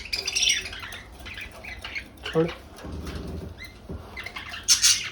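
A pet parrot squawks in harsh, sharp bursts, loudest near the start and again at the end, mixed with flapping and scuffling while several people talk and shout nearby during a bachelor party.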